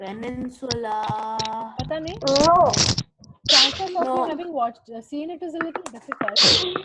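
Amid speech from a teacher and children in a geography class, a couple of sharp, explosive sneezes break through, one near the middle and another near the end.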